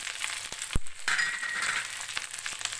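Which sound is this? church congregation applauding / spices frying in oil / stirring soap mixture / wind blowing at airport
spices frying in oil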